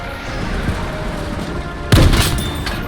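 Gunfire aimed at a half-track in the video game Battlefield 5, with a steady rumble of battle noise before a sudden loud burst of shots and booms near the end.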